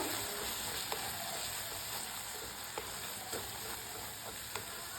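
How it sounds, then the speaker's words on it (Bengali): Ground cumin and coriander frying in hot oil with lentil-and-egg curry masala give a quiet, steady sizzle, punctuated by a few soft clicks of stirring in the pan. "এবার আমি আরও এক মিনিট মতো মশলাগুলোকে কষে নেবো"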